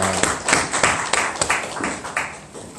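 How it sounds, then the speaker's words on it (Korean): A church congregation at a Reformation anniversary service claps in a loose, uneven rhythm, distinct hand claps and slaps rising and fading over a few seconds. "하나님께 영광의 박수를 드리도록 하겠습니다."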